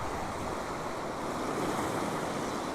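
Ocean surf on the Queensland coast rolls and washes continuously, a steady broadband roar of breaking waves with wind buffeting the microphone, no voices.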